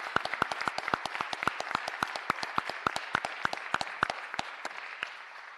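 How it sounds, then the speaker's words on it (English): A round of applause at a business meeting: steady, distinct handclaps from a modest group, sharp and fairly close, fading slightly toward the end with no talking. "I just want to give you a special round of applause right now."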